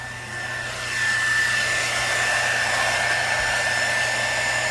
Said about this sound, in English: I'm just going to emboss it.